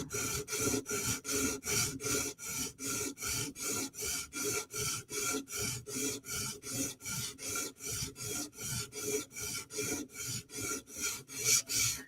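Rhythmic rasping strokes of a Chris Reeve Inkosi tanto blade bevel drawn across a sharpening stone, about two strokes a second, close and even, repeating steadily with no talk.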